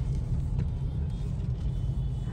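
Steady low engine rumble of road traffic stuck in a jam, heard from inside a Skoda Slavia, with continuous idling and creeping vehicle noise and no talking.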